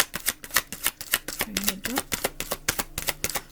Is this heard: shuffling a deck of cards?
yes